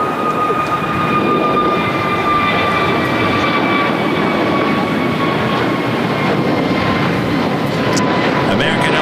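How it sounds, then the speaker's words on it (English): American Airlines Airbus A321neo jet departing LAX on a flight to Charlotte, a loud, steady engine roar with a sustained whine that holds for the whole stretch, close by and continuous. "American Airlines Flight 1966 heading to Charlotte in an A321 Neo"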